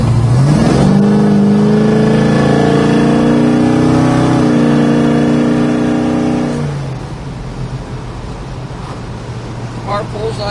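A 1970 Chevrolet Chevelle SS with an upgraded cam revs loudly up close, its deep rumbling engine note climbing and holding before falling back to a low idle burble.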